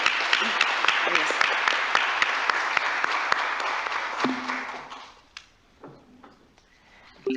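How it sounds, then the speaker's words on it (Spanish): Audience applauding panel speakers at an event on women and labour reform, dense steady clapping for about five seconds that then fades to scattered claps, with voices speaking over the end. "Muchas gracias y un aplauso para cada una."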